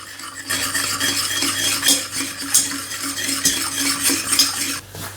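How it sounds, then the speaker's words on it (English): A whisk clatters steadily against a bowl, dissolving 400 grams of sugar into liquid for a lemon and ginger hard tea brew, with quick metallic scraping and tapping and no talking. "Whisk this in till it's all dissolved."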